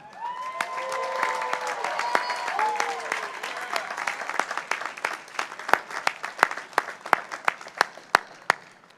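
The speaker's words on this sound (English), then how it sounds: "give a huge round of applause to the sonorous operatic Chris Watson" Audience applause at a university undergraduate commencement ceremony, a dense round of clapping from a large crowd that builds and then thins into scattered individual claps near the end.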